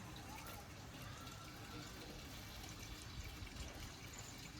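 Water poured from a can onto potted flowers and vegetable plants in a home garden, a steady soft trickling and splashing that runs without a break at low level.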